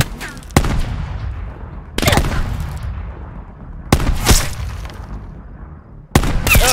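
Sniper rifle fire in the Call of Duty Black Ops 4 campaign: four loud, sharp shots spaced about two seconds apart, each followed by a long rumbling echo and tail, with a fainter secondary blast between two of them.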